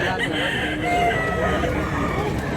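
A rooster crows at a cockfight in Mantalungon, Cebu, its call rising clearly over a steady hubbub of a crowd with voices talking.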